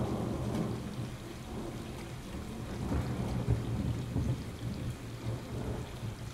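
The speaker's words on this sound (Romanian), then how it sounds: "sunt într-o canalizare aici și plouă" Steady rain pours in a sewer during a thunderstorm in the video game Stray, with low thunder rumbling underneath throughout and no voices.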